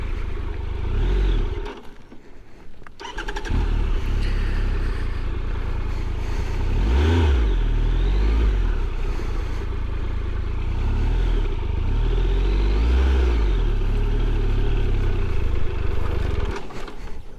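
Motorbike engine running loud and close on a loose, wet trail, its drone rising and falling with throttle surges and brief dips, heavy low rumble throughout with wind and clatter.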